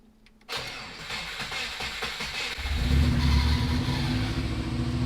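A Subaru Impreza GC8 powered from a jump box cranks briefly, then catches and settles into a rough, steady idle, close by with no voices.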